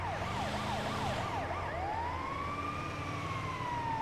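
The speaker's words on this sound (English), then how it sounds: "Put some respect on the siren" A video game ambulance siren in GTA 5 warbles in quick rising and falling cycles, then shifts into a long, slow wail, steady and fairly loud throughout.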